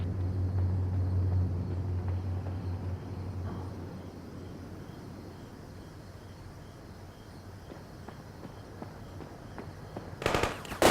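Covering gunfire rattles in World in Conflict combat training, distant automatic bursts over a low rumble that fades, with a sharp louder volley just before the end.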